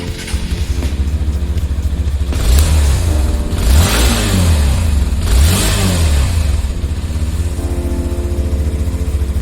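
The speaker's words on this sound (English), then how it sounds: "Whether it sounds sporty, let's check out." A Hero Xtreme 160R motorcycle engine idles, then revs sharply twice, each rise and fall distinct before settling back to a steady, close idle.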